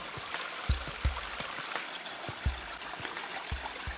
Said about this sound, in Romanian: am dat și de primul fir de apă